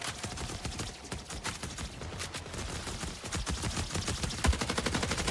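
Dense rapid gunfire in a ranked first-person shooter, bursts of automatic shots crackling continuously and loud through the whole stretch.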